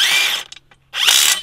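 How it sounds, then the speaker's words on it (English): A cordless drill whirs at full speed, cuts out for about half a second with a few faint clicks, then whines back up loudly. "I can go full throttle on this drill and look how slow it moves."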